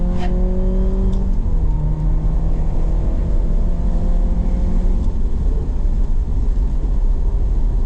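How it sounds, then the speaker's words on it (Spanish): A Ferrari berlinetta engine, a 355 or 360, drones close and loud as the car accelerates, its pitch climbing and dropping through gear changes with a steady mechanical roar and no speech. "es adictivo acelerar y reducir marchas simplemente por escuchar esta maravilla de motor"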